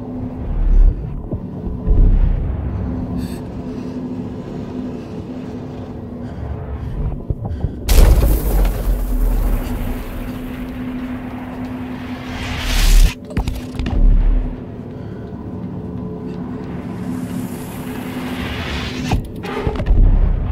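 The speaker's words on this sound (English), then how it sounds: "I believe there's a nuclear blast in the distance. They're digging using nuclear explosions." Distant nuclear blasts used for digging in the game Inside rumble as deep, heavy booms, with several large thudding swells spread across the span amid a low continuous rumble, no voices.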